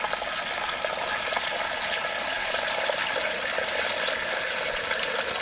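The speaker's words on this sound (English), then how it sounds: "I'm just going to use my pot filler here and put water in" A pot filler faucet at a kitchen stove runs water into a pot, giving a continuous, bright splashing hiss at close range, steady throughout, with no talking.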